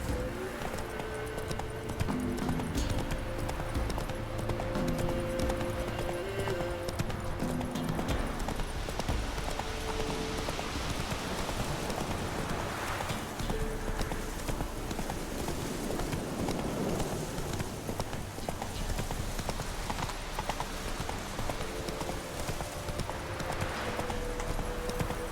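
Geralt's horse Roach gallops in The Witcher 3 with rapid, steady hoofbeat clip-clops, continuous and moderately close, over a faint game ambience.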